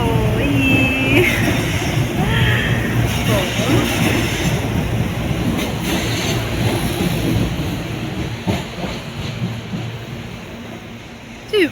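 Busy train station ambience with a steady low rumble of rolling rail cars, a faint squeal of wheels on the rails and indistinct background chatter, continuous and fairly loud throughout.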